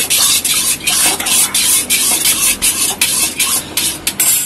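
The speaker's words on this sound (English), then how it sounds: "Now add some red chili powder in it. A little bit, not more than that. Just stir it nicely." Red chili powder being stirred into a curd garlic chutney, a steady scraping and swishing of a spoon against the bowl in quick repeated strokes, loud and close with no talk.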